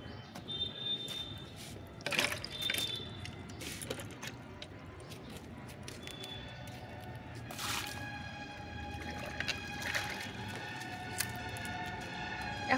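Water poured over potted plants in a garden, a soft continuous trickle and splashing with scattered drips and squishy soaking of soil, moderately quiet and steady throughout.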